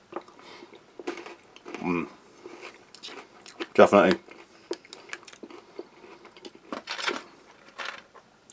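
Crunchy cheese-filled cracker from a US Army MRE chili ration being bitten and chewed close to the mic, with crisp crunches and squishy chewing in bursts, loudest near the middle, between short bits of talk.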